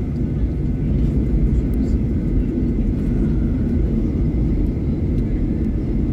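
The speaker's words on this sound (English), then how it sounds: "there's a big Aer Lingus there" Steady broad rumble of an Aer Lingus Airbus A330 airliner at Dublin airport, a continuous loud engine and airframe drone with no distinct events, heard from close by with faint background voices.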